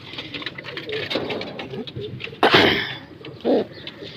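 A pair of Zera Ferozpuri fancy pigeons coo close by in bursts of throaty, rolling calls, with a louder rush of noise midway and a short deep coo near the end.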